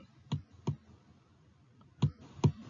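Computer mouse clicks while a teacher writes on screen during an online primary-school lesson, four sharp, separate clicks in two pairs, quiet and close, with no talk.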